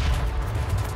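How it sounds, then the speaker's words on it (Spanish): Gunfire in the battle-royale game H1Z1: King of the Kill, heard as a dense, loud burst of shots with a heavy low-end rumble lasting about a second, with no talk. "Pegó un balazo."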